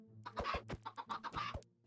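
Chickens in a video game cluck in a quick, uneven series of short, close clucks, fairly loud and alone with no talk.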